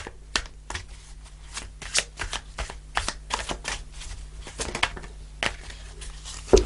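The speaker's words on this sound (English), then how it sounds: "So I'm just pulling an overarching tarot card." A tarot deck is shuffled and cards are pulled close up, a run of quick crisp riffling snaps and soft slides in an irregular rhythm with no talking.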